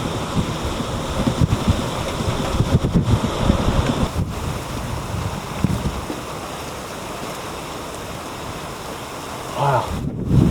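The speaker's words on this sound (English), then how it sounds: "It is raining over there." Steady, loud rain roars through a severe storm in northern Indiana, driven by strong wind that buffets the microphone, forming a continuous dense wash with gusty surges.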